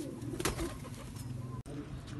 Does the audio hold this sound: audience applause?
no